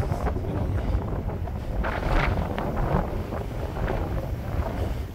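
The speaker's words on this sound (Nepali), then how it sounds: "हावा चाहिँ त्यस्तै चलेछ" Strong wind buffets the microphone on a family trip to Muktinath, a constant loud rumbling roar with gusty swells that runs the whole time with no voices.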